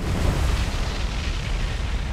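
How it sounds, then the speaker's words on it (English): A massive ship magazine explosion in the naval combat game War On The Sea, set in a Dutch East Indies campaign, roars as a loud, continuous rumbling blast with dense low-end booming throughout, with no voices over it. "Massive magazine explosion."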